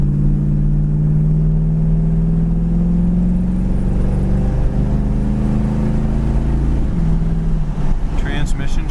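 A blue 1973 Chevrolet Camaro Z28 cruises at about 35 to 40 mph with a steady low engine drone from the cabin, its pitch sagging as the car brakes and slows toward the end.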